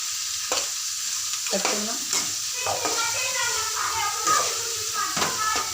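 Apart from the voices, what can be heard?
onions frying and being stirred in pan with salt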